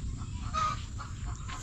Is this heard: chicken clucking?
yes